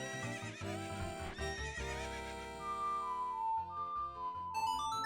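A horse in the Ocarina of Time video game gives a long, loud, close neigh with a rising whinny, over a clip-clop of hooves and a whistled tone near the end.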